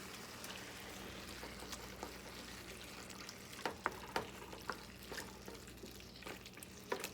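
Ground beef with mushrooms and canned diced tomatoes simmers in a pan, a quiet steady sizzle and bubbling with occasional louder stirring clicks and scrapes close by.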